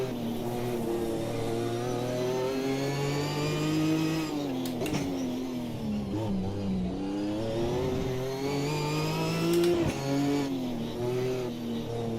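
Ginetta race car engine in a sim racing endurance game, revving steadily with rising and falling pitch through twisty, narrow track sections, loud and continuous with brief gear-shift dips.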